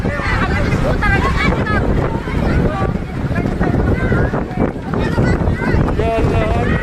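Strong wind sweeps through an evacuation tent camp in Majene, a loud, constant roar buffeting the microphone while people call out and talk over it.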